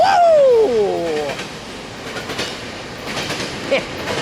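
An eastbound freight train passes at Fullerton, opening with loud, descending wheel squeals that fade into steady rumbling and clickety-clack of railcars rolling by nearby.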